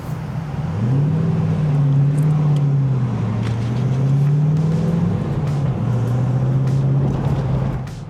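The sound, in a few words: turbocharged TVR car driving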